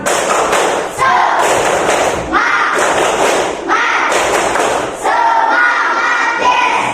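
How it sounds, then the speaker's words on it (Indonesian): Classroom students perform the tepuk semangat routine together, a loud repeated rhythmic clapping pattern in bursts of claps separated by short pauses, with group voices shouting along. "Coba tepuk semangat."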